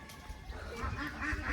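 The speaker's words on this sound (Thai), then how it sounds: "ได้ยินเสียงเป็ด" Ducks quacking in a rural Thai village setting near a temple, a few short calls rising over a low background hum, moderately close and fairly faint.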